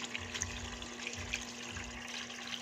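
Steady rushing water pours into a washing machine, a continuous hiss with a low hum underneath and no talking.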